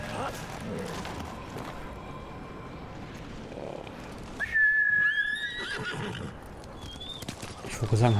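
A horse whinnies sharply in the video game Ghost of Tsushima, one loud neigh partway through, with hoof clip-clops and ambient game sound around it.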